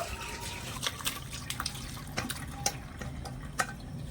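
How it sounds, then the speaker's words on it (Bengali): Chhena, fresh curdled milk cheese for sweets, is poured and strained through white cotton cloth, a steady trickle of draining whey with scattered drips and splashes, close by and moderately loud. "এবার আমি একটা সাদা সুতির কাপড়ের মধ্যে ছানাটা ছেঁকে নেব"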